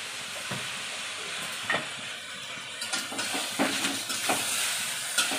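Masala spices fry with soybeans, turmeric and salt in a pan, making a continuous moderate sizzle with scattered stirring scrapes and knocks against the pan.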